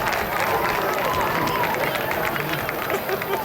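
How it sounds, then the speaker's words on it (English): Crowd applause and cheering at a high school football game for the Flying Eagle Marching Band, a dense steady wash of clapping and crowd noise with babble throughout. "Let's give one more Spartan round of applause for the Flying Eagle Marching Band."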